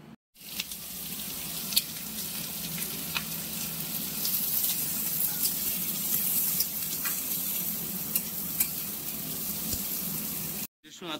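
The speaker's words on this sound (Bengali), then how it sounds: "কড়াইতে দিয়ে দেওয়া হলো সর্ষের তেল।" Ginger and green chili frying in mustard oil in a wok for an egg bhujia, a loud, steady crackling sizzle up close lasting about ten seconds, with occasional sharper pops.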